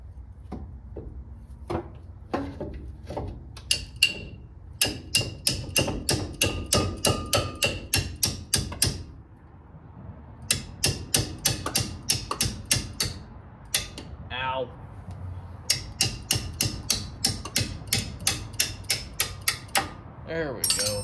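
Sharp metallic hammer strikes ring out close by as a van's banjo bolt is knocked loose, coming in rapid rhythmic volleys broken by brief pauses, with light speech-like sounds between blows.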